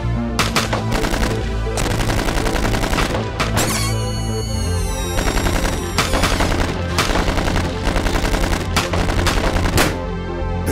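Dense, loud bursts of machine-gun and rifle fire in a film ambush scene, sustained rapid volleys with sharp cracks and ringing tones, continuous throughout.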